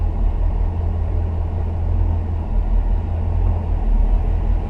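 A 1979 Pontiac Trans Am engine idles close by with a steady, deep rumble that stays even throughout, with no voices.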